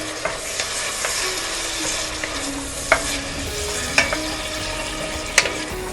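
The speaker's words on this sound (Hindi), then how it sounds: "और अब हम इसमें अपना कीमा डाल देंगे।" Minced keema meat frying in a pan for ali nazik kebab, a dense, loud, continuous sizzle up close, broken by a few sharp spatula taps against the pan.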